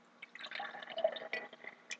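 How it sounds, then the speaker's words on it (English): Diluted tea is poured from a cup into a glass, making a soft, close, bubbling trickle with small splashes and drips that lasts about two seconds. "And I'm going to pour it back in there."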